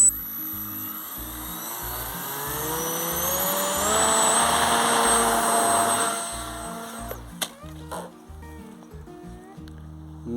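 Small electric motor and propeller of a converted RC Piper Cub model plane rising to full throttle in a loud whine, then cutting off abruptly into clattering bumps as it crashes on launch.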